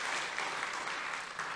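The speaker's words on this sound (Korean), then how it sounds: "다시 한번 박수할까요?" A church congregation applauds after testimonies and a special musical performance, a brief, soft, steady patter of many hands heard from a distance.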